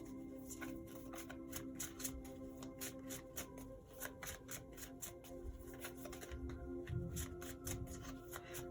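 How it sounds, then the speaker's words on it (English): Tarot cards are shuffled continuously in quick riffling flutters, soft and close, with a faint steady hum underneath and no talking. "I like to shuffle until something jumps out on its own"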